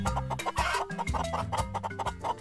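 Many chickens in Minecraft cluck and squawk rapidly over one another in a busy, close flock, with a steady low hum beneath them.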